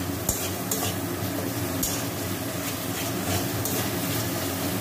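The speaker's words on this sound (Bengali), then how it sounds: "এটা কষা কষাই করবো ডিমটা" Egg sautés and is stirred in a pan with potato, a broad constant sizzle under a low rumble, with a few quick scrapes and clicks from the spatula and no voices.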